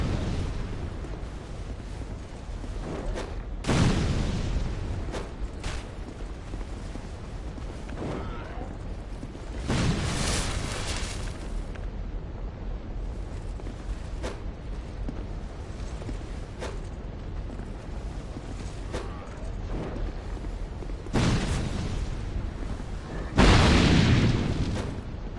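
Several booming firebomb explosions in a video game burst out at intervals, each a heavy, rumbling blast over a steady din of battle noise, with no voices.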